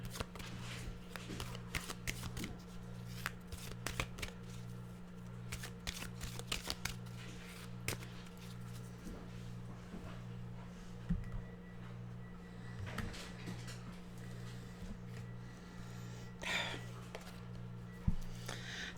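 A deck of animal oracle cards being shuffled close up, a steady soft riffling and flicking that runs the whole time over a low electrical hum, with no talking.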